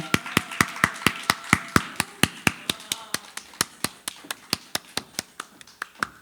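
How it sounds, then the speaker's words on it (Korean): Steady, evenly spaced claps at about four per second ring out for six seconds, welcoming Professor Park Ji-young, a youth counseling specialist, on stage at a COVID-19 psychological healing concert at Daejeon Institute of Science and Technology. "박수 부탁드립니다"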